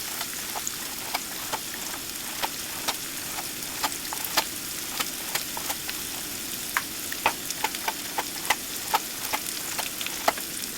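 Peppers sautéing in a pan for pepper steak with mushroom gravy, a steady close sizzle with scattered sharp crackles and pops throughout, no voices.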